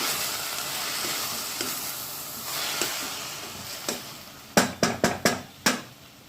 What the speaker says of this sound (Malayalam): ഇനി നമുക്ക് ഇതൊന്ന് മിക്സ് ചെയ്ത് കൊടുക്കാം